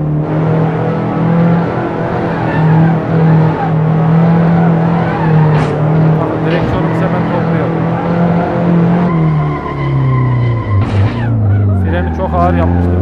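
Engine drone and tire squeal of a car drifting in the Assetto Corsa racing game, driven with a Logitech G29 wheel, holding steady revs before shifting and screeching toward the end, loud and continuous.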